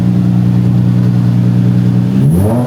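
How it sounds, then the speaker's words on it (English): An Infiniti G35 fitted with a Flashark racing exhaust idles loud and close with a deep, steady drone, then the engine pitch climbs sharply as it revs near the end. "Rev it a little bit."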